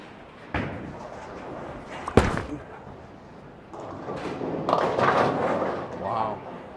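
A Storm Fate symmetrical pearl bowling ball is released with a hard thud, rumbles down the lane and crashes into the pins in a broad, clattering burst, with voices in the background.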